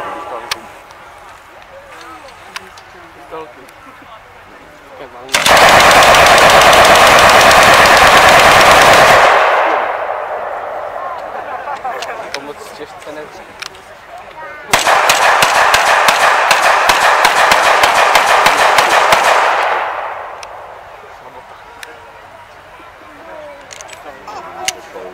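Bursts of rapid automatic gunfire at a military history day event, two long loud rattling volleys of several seconds each with quieter gaps between them.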